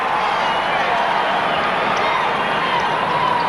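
A capacity crowd fills a basketball arena for a 1989 Bulls versus Lakers game, a dense, steady roar of cheering and babble with no breaks, loud and continuous throughout.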